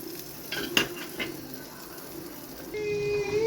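A tempering of mustard seeds, cumin, dried red chillies and turmeric fries in oil for bottle gourd chutney: a low sizzle with metal spoon clinks against the pan, then a louder steady hiss near the end.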